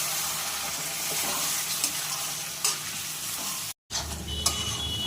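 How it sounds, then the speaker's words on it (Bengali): Fried potatoes sizzle steadily in a pan as masala is stirred through them, a dense, continuous crackle with a brief gap near the end. "এবার মশলা দিয়ে এটাকে ভালো করে কষে নিচ্ছি"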